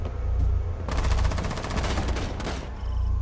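Rapid automatic gunfire from the Rainbow Six Siege video game, a loud close burst of evenly spaced shots lasting a couple of seconds between brief pauses, with no talking.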